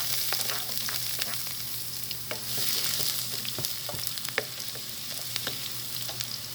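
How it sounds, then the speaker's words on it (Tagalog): Garlic sizzles in a hot pan, a continuous close frying hiss broken by frequent sharp clicks and taps of stirring, with no speech. "Mainit lang ating kawali. Lagyan na natin ang bawang."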